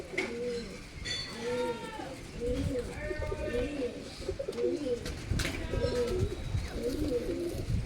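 Pigeons coo close by in a home loft. Their low, rolling coos repeat steadily, and someone talks in places over the birds.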